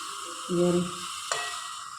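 Kalakkai (karonda) fries in hot oil for pickle, giving a steady bright sizzling hiss throughout, with a brief voice heard over it.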